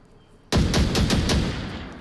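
A rapid burst of about five gunshots rings out in the VR shooter Onward during a 1v1 match: loud, close and sharp, with a short decaying tail and no voices.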